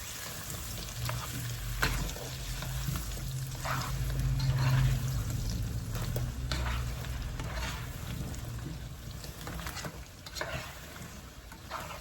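Potatoes sizzle and fry steadily in a pan for smothered potatoes and eggs, with a spoon scraping and stirring through them in bursts; the frying stays close and continuous with no talking.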